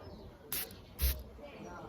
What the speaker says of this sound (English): So I'm going to do a fresh spray